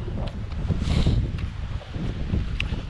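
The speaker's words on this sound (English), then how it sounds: "I apologise if you can't hear us for the wind. It is windy." Gusty wind buffets a microphone on a hillside at Langlee Crags in the Cheviot Hills, loud rumbling blasts that rise and fall throughout with no speech.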